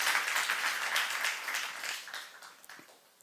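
Church youth congregation applauding warmly during a sermon, a brief burst of dense clapping that gradually thins and fades out.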